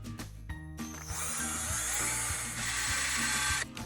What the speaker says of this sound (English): And then you need a drill to open the hole.